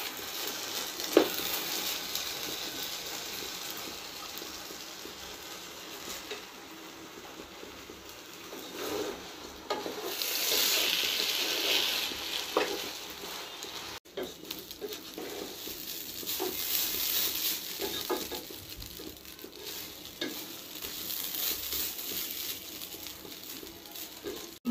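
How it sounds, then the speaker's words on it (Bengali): Rice grains fry in a pan, a soft continuous sizzle and patter with occasional stirring scrapes, fairly quiet and steady with no talking. "আমার চালটা ভালো করে ভাজা হয়ে গেছে"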